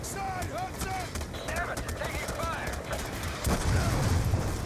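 Call of Duty Black Ops 2 battlefield with rapid crackling gunfire running throughout, a heavier burst near the end, and voices chattering over the fight.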